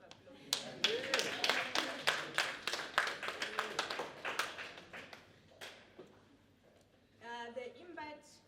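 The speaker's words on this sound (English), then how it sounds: "Can I please have a round of applause?" An audience at the 4th Namibia Book Fair creative writing session claps for several seconds, a dense burst of close hand claps that tapers away before a voice begins speaking.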